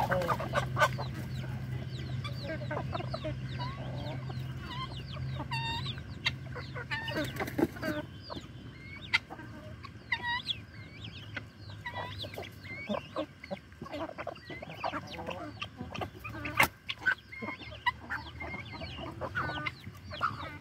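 Hens and a rooster on a farm clucking near feed sacks, a steady stream of close, overlapping clucks and short calls with occasional pecking and rustling sounds.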